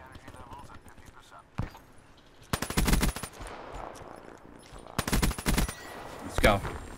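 Two loud bursts of rapid automatic gunfire rattle out in the Black Ops 3 video game, separated by quieter in-game sounds, while a player talks.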